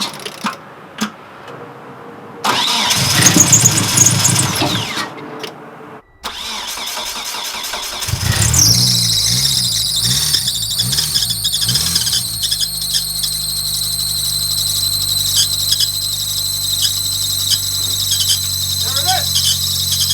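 A Honda Accord, ninth generation, cranks briefly and then fires up with a loud engine roar that settles into a steady idle, a high belt squeal whining continuously over the running engine.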